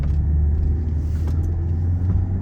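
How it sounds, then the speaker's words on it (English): A 2010 Audi A4 B8 Avant pulls away from a stop toward 60 mph at part throttle, a steady close, loud low engine rumble with road noise and no talking. "We're gonna do a quick 0 to 60 pull and just end it there at the stop."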